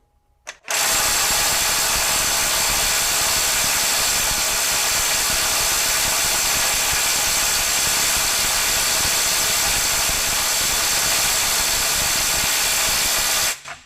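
A RIDGID SubCompact impact wrench runs in reverse on a full 6 Ah battery, maxing out near 500 foot-pounds: one loud, close, continuous roar of rapid hammering lasting about thirteen seconds, with no talk.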